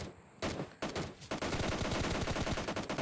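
Gunfire in a mobile battle royale game, attributed to an AWM sniper rifle: loud, close, sharp broadband bursts that start as separate blasts and then become a dense, rapid run of shots with no pauses.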